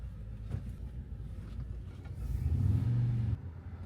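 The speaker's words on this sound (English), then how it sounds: "Traffic." Road traffic on a town street, a car's engine rumbling low as it passes close by, swelling louder toward the end before cutting off, with a steady background hum and no talking.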